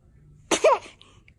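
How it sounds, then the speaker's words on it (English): An infant gives one short, sharp sneeze with a breathy burst and a small voiced tail, close up in a quiet room. "Ay, ay, ay, esos estornudos."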